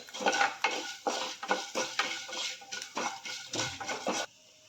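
Rice and toor dal are dry-roasted in a pan, a spoon scraping and rattling the grains in quick rhythmic strokes, close and fairly quiet, then stopping abruptly.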